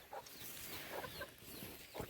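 A hen clucks softly at an organic egg farm, giving a few scattered, faint clucks over a low background hiss.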